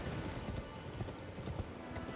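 Rapid hoofbeats of a galloping horse in Elden Ring clatter continuously over a low rumble, steady and close throughout the short stretch.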